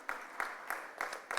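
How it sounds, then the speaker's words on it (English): A convention audience at a formal technical session claps in a brisk rhythmic pattern, with sharp regular bursts of applause filling the hall and no speech over it. "Can we have a big round of applause,"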